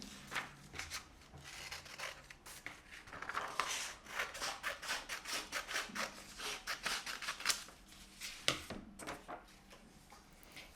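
Scissors cut through folded paper in a run of close, crisp snips, each stroke a short crunchy rasp in an uneven rhythm that pauses and resumes.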